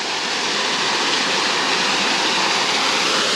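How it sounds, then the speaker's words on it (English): Water rushing down a small stream along the Rhododendron Trail at Lake Russell, a steady, full splashing hiss heard up close and alone, with no voices. "A little path down the other side, there's some water coming through."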